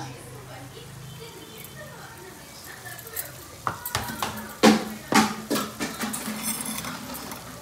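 A spoon scrapes and clinks against a pan while chilli chicken fry with garam masala is stirred, several distinct knocks following a soft sizzle with a voice speaking faintly in the background.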